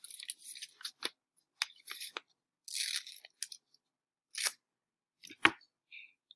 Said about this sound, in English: So I'm going to cut out the word 3.